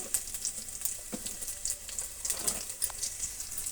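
Onions frying in a pan, a soft steady sizzle with light crackles and faint spatters, heard close and alone.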